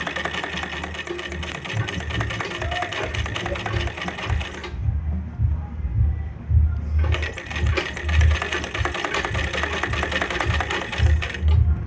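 Sewing machine running in long continuous bursts while stitching the neckline of a salwar suit, a steady rapid mechanical whir with a brief pause around the middle before it resumes, close and loud with no talking.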